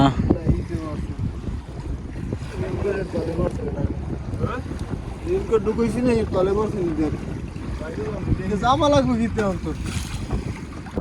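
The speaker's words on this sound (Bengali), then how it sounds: "বাতাসের চাপ প্রচন্ড বেশি" Strong wind buffets a fishing boat netting hilsa on the Payra river, with constant heavy roaring gusts and a low rumble while someone talks over it.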